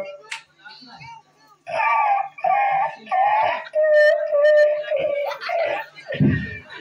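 A voice mimics a small dog, yapping in several sharp, high yelps that stretch into a drawn-out whine, then a brief rough burst at the end.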